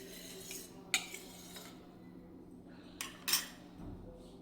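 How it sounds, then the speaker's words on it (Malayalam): A spoon stirs curd starter into milk in a vessel to make thick homemade curd. A few soft scrapes and two brief clinks of metal sound faint and sparse in a quiet room. "അപ്പോൾ അതുകൂടെ ഇതിലേക്ക് ചേർത്ത് കൊടുത്തു ഒന്ന് ഇളക്കി യോജിപ്പിച്ച്"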